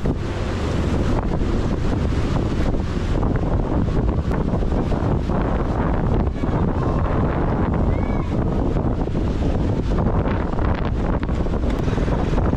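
Strong habagat monsoon wind after a typhoon, roaring and buffeting loudly against the microphone without a break, with surf and water noise beneath and a voice faintly audible under the gusts.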